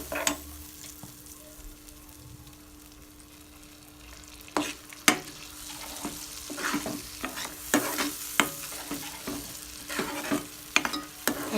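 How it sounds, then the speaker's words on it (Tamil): Masala paste for Tamil vatha kuzhambu, with turmeric and chilli powder, sizzles in oil while a spoon stirs it. Steady frying hiss runs throughout, and sharp scraping clicks of the utensil against the pan come in irregular bursts in the second half, with no talking. "எண்ணெய் கொஞ்சம் பிரிஞ்சு வர அளவுக்கு நல்லா வதக்கி விடணும்"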